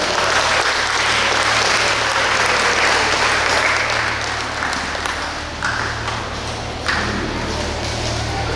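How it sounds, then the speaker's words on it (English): Big round of applause from an audience at a World Tuna Day ceremony, sustained clapping over a low steady hum, easing slightly midway before swelling again. "Let us give him a big round of applause."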